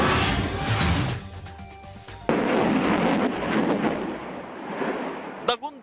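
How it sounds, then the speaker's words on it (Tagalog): A loud, roaring launch blast from a US HIMARS rocket launcher during military exercises in Nueva Ecija, Philippines, surges and rumbles for several seconds, followed by a sharp crack and a fading roar. "Dagundong yan mula sa pinaputok na High Mobility Artillery Rocket System o HIMARS ng Estados Unidos."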